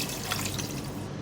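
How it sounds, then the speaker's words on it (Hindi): One cup of water pours into a cooking pot of browned mutton, a brief steady splashing gush, close and fairly loud. "1 कप पानी डालूँगी।"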